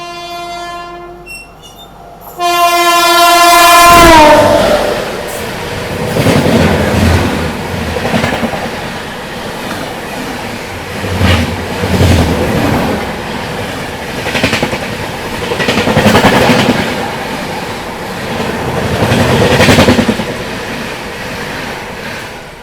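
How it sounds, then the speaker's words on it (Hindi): The Sabari Express passes on the main line with a loud horn blast, then a close roar of rushing wheels and repeated clickety-clack from the rail joints as the coaches go by. "तो ये आ गई सबरी एक्सप्रेस"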